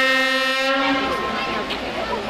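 Horn of a class 830 diesel locomotive blaring as one long sustained tone that cuts off partway, followed by rumbling engine and rail noise.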